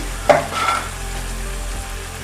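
Spice paste with turmeric sizzling in hot oil, a dense continuous frying hiss with a brief stirring scrape near the start, close and fairly loud throughout.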